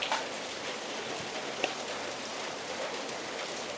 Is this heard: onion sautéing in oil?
no